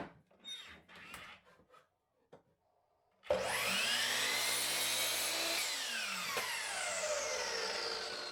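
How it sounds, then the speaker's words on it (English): A miter saw tilted to 5 degrees cuts 2x4 lumber into legs, spinning up loudly and screaming through the wood for about five seconds before winding down, after a few seconds of quieter workshop handling noises. "Set both of your angles on the miter saw to 5 degrees,"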